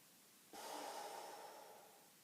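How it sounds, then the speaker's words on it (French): Loud, close breathing sound during a Pilates breathing exercise with hands on the belly, one long breath starting abruptly and slowly fading over about two seconds, heard alone. "moi je fais du bruit quand je respire"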